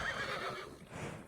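A horse neighs in a video game: a loud, close whinny that rises and falls over about a second, with faint hoof clip-clop underneath and no voices.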